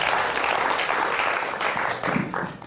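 A magic show audience breaks into a brief round of applause for a volunteer, steady mid-distance clapping from a crowd that swells slightly before fading.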